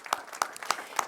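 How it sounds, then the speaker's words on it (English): A few sharp, well-separated claps at a Board of Education meeting, heard close and fairly clear against a quiet room over about a second. "please join me in a round of applause"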